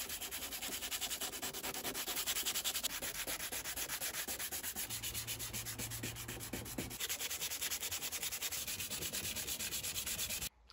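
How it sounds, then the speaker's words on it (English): Steady, continuous scratchy rasping of 180 grit sandpaper rubbed back and forth over paint on an ST150, close and fairly loud, with a brief quiet moment at the end. "I'm going to start sanding this area down with some 180 grit sandpaper"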